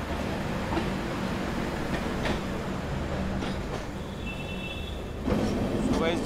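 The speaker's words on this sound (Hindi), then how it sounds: "के सामने से जो ट्रेन आ रही है, ये है 14629 सतलुज एक्सप्रेस" The 14629 Satluj Express train, running between Chandigarh and Ferozepur, rumbles in a steady loud roar with faint clatter and a brief high squeal, heard up close.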